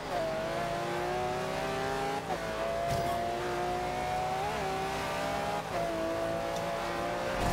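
Game race cars roar steadily with engine tones rising and falling through gear shifts, loud and continuous with no talking.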